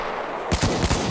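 A sentry gun in the shooter game Battlefield 1 fires a quick, loud burst of several rapid shots after a brief stretch of steady background noise.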